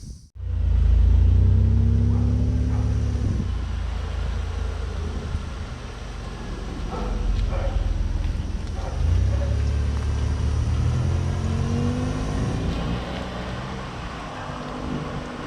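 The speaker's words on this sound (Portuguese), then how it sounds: "O V6 tem um ronco suave também." A Chrysler Stratus convertible's 2.5 litre V6 runs with a smooth, low rumble, swelling as it revs and easing back, the drone steady and fairly close throughout with no voices.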